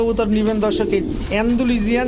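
Pigeons at a pigeon market coo close by in repeated, overlapping throaty rolls, with several birds calling over each other.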